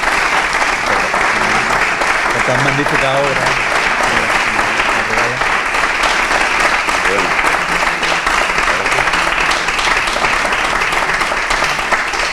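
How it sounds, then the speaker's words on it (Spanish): An audience at a book presentation in Huelva applauds steadily and loudly for the whole stretch, with a voice talking briefly over the clapping partway through. "yo me voy a permitir que le demos un aplauso"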